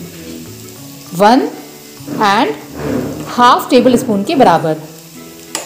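Chopped green chilies and ginger-garlic paste sizzle in hot oil with onions, a steady frying hiss running beneath a voice talking throughout.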